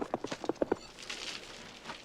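Horse hooves clip-clop in a scene from the film Conan the Destroyer: a quick run of close, distinct beats for under a second, then fading into a muffled, busy background.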